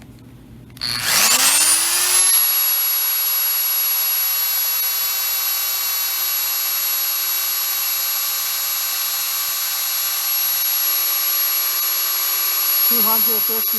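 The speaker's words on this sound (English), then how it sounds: "How about this electric drill?" A high-pitched electric drill whirs up to speed and runs steadily at a constant pitch, loud and close, with a brief clatter near the end.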